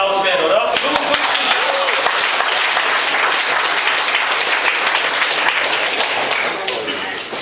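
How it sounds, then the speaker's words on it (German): Loud, sustained applause from an audience at a powerlifting bench press event, dense clapping filling the whole stretch and easing slightly at the end, with some crowd voices mixed in. "Ich glaube, das ist noch ein Applaus wert, oder?"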